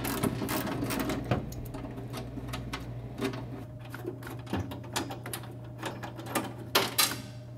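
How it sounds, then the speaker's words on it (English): An 11mm ratchet clicks in quick bursts as bolts come off the metal bar of a soda machine, a close, rapid ticking repeated many times, with a steady low hum underneath. "I'm using my 11mm ratchet to take these off."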